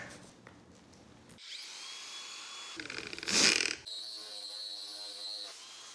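A 1.5-inch hole saw drilling through a water-wetted piece of 1x5 wood, a steady whirring grind with a louder burst of cutting midway, no talking.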